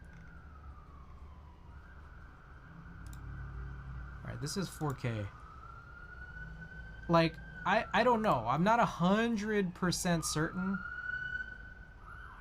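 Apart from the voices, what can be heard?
sirens passing outside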